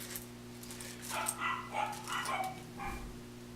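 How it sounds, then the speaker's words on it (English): Several dogs bark indoors in a short burst of yips and woofs, moderately distant and fairly quiet against a steady electrical hum. "All my dogs were barking"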